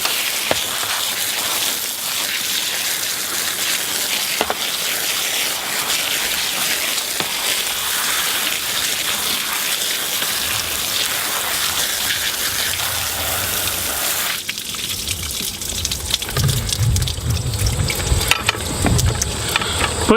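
Freshly harvested Beauregard sweet potatoes washed in water at a garden workstation: a steady, loud rush of running water that shifts to a splashier, more uneven gush in the last few seconds.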